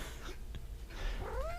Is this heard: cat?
yes